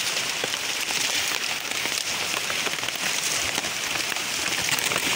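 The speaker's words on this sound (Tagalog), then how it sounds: "Grabe na naman lakas ng ulan mga boss." Heavy rain pours down steadily and loudly, a dense, continuous hiss of drops drumming on surfaces close by.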